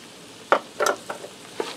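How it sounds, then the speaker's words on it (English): A spoon stirs flour into a hashbrown hamburger casserole in a pan, giving a few short scraping, stirring strokes over a faint sizzle, close up and brief. "I'm going to mix that in."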